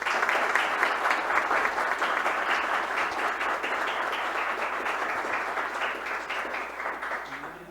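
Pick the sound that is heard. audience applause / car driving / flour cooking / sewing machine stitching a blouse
audience applause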